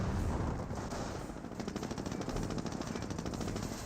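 Rifle gunfire in a Company of Heroes battle, rapid crackling volleys of rifle and machine-gun shots layered into a continuous dense rattle, fairly steady and close, with no talking over it.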